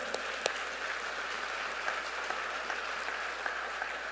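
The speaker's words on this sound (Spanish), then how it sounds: "Pero un aplauso al Señor, se lo quiere dar" A church congregation applauds in a steady, even wash of many hands, moderately distant and unbroken for several seconds, with a few sharper claps popping out near the start.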